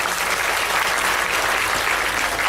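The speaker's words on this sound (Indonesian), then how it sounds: "tepuk tangan semuanya untuk kalian." Loud, dense audience applause at a Javanese cultural performance featuring a dalang puppeteer, a continuous roar of many hands clapping without a break.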